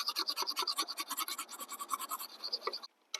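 Rapid rhythmic scraping of a sharpener along the blade of pruning loppers, with quick back-and-forth strokes that are close and steady before they stop abruptly.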